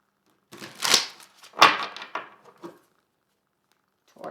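Tarot cards shuffled by hand in a few short papery riffles and slaps, close and clear against silence.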